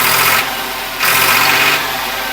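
At an outdoor tractor market, a Sonalika 750 tractor engine revs up in repeated surges, rising and falling a few times over a rough, rumbling idle close by.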